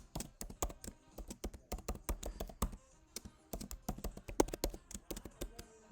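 A long password being typed on a computer keyboard, a quick irregular run of close key clicks with brief pauses, no talking over it.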